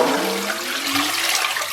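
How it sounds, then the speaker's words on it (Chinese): Tap water gushes into a cooking pot holding pork bones for braising, a loud, close splashing and rushing pour that keeps going steadily without any voices over it. "给锅里边来点82年自来水"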